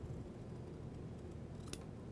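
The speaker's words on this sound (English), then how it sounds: "sometimes I think it's just easier to grab a pair of scissors" Scissors cut curved pieces of quilting fabric: a soft, faint snip up close over quiet room hiss, with one sharper cut near the end.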